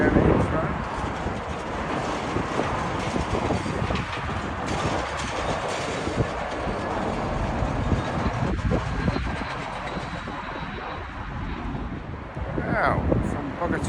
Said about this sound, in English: from Bogota, we have Avianca 787-8 Dreamliner